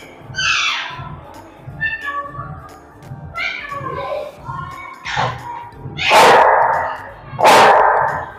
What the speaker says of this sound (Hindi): क्या भौंक रहा भाई मेरे को